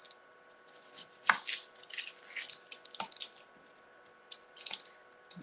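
A knife chops a yellow onion on a cutting board in a few sharp, separate strikes, with softer crisp slicing and rustling between them, close and clear without talk.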